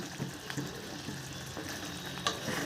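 Soft pabda fish frying gently in a pan of oil for a mustard fish curry, with a steady low sizzle and occasional light scrapes and clinks as it is carefully turned and stirred.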